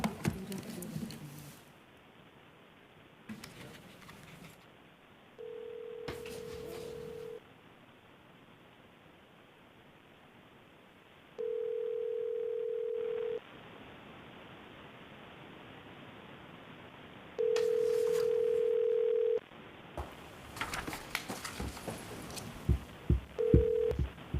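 Steady electronic telephone-line tones on a county commissioners' meeting call line, several short beeps each lasting about two seconds, spaced apart over a low hiss, with an alert chirp near the end.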